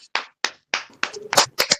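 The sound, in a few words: congregation clapping loudly for worship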